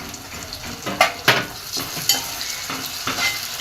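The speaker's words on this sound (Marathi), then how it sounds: "टोमॅटो पण छान परतून घेऊ" Onion, green chili and tomato sauté in a pan for Marwadi-style khichdi, a soft continuous sizzle punctuated by several sharp scraping and clinking stirs of a utensil against the metal.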